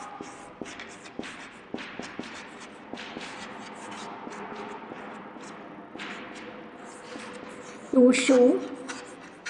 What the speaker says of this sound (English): the name of the activity I will write on the board